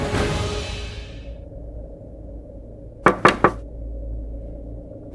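Three quick knocks on a wooden door ring out clearly in a quiet room, following a fading rush of sound at the start.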